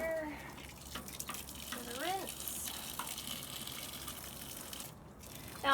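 Hot water pours and splashes for hand washing laundry in an off-grid setup, a continuous gurgling stream with a few sloshes, moderately close and fairly quiet.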